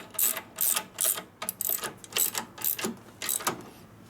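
A bolt torqued into the frame threads of a 1941 74ci Knucklehead bobber with a ratchet, heard as close, rhythmic bursts of metallic clicking, about eight strokes in quick succession.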